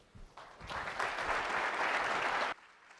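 Audience applause welcomes Daniel Christen to the stage at a Sunday Living Beyond Boundaries event, a full burst of clapping that swells quickly, holds steady for about two seconds, then cuts off abruptly.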